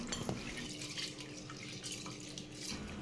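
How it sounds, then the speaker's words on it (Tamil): Urad dal being washed by hand in a bowl of water, pressed and rubbed repeatedly, giving a steady close wash of running and sloshing water with small drips and splashes throughout, no voices. "இப்போ இதை நல்லா மூணு தடவை கை வச்சு நல்லா அழுத்தி அழுத்தி வாஷ் பண்ணி எடுத்துக்கோங்க"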